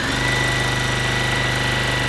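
A Mini Beast sewing machine races through fabric with a loud, continuous, steady motor drone and rapid regular throbbing pulses, up close and uninterrupted.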